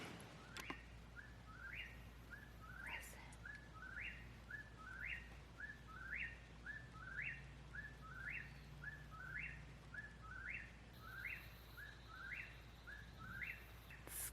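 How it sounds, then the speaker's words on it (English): A bird sings a repeated short chirping phrase at a steady rhythm, faint and somewhat distant, against a quiet late-evening background in the Missouri countryside. "just relax and listen to the birds"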